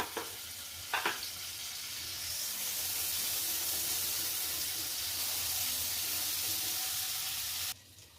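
Butter dropped into a hot frying pan, a couple of sharp taps followed by a rising, steady hiss of sizzling that holds close and even before cutting off abruptly.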